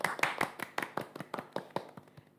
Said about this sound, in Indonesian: Tepuk tangan dulu nggak sih buat Wawa?